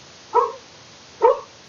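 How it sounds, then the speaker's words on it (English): A Cane Corso mastiff barks twice, two short, close, moderately loud woofs nearly a second apart against a quiet background. "Is that a Mastiff?"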